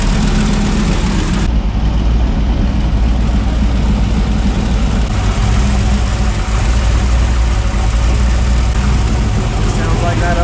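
A car engine with a leaking exhaust header runs loud and close, a dense steady roar with rapid ticking puffs from the leak that holds unbroken for the whole stretch.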